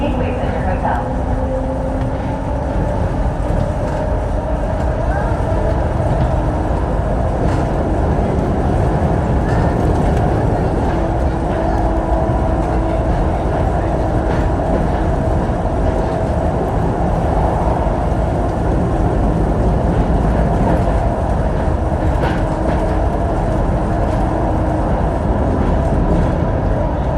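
An enclosed automated airport people mover train, the Atlanta SkyTrain, hums and rumbles steadily as it runs, with a recorded voice making announcements over the noise.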